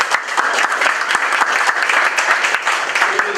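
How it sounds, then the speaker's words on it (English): Meeting audience at a weekly startup meetup applauding a guest speaker, a dense, steady wash of many hands clapping close by with no talk over it. "let's give him a round of applause for coming"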